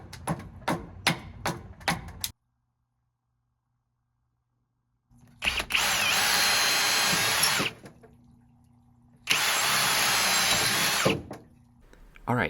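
Power drill boring holes through pieces of a velvetleaf fiber hammock, in two loud sustained bursts of a few seconds each, after some knocking and a quiet pause.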